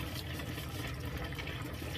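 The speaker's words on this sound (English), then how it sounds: "I'm using a little bit of hot water here" Hot tap water runs steadily over tumbled agates as they are rinsed clean of grit, a close, continuous splashing and gushing stream with no pauses.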